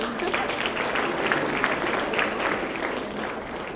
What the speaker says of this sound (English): let's give a round of applause to all of our volunteers